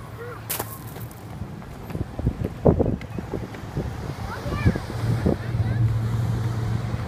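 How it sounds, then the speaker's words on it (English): Gusty wind buffets outdoors at a park in low rumbling blasts, with thuds and a voice breaking through now and then. "At the park, and it's windy and I'm cold."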